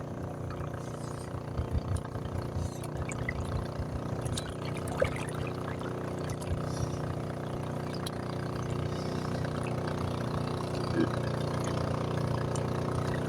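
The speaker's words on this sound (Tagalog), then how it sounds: "May bangka na dadaan. Mukhang bilis ah." Motorboat engine on open water, a steady mid-pitched drone with faint splashing, holding fairly constant and near throughout without a clear rise or fall.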